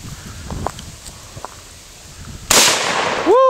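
A single sharp gunshot from a 1916 SMLE Lee Enfield bolt-action rifle cracks loudly at an outdoor range, preceded by faint rustling and followed by a ringing tail.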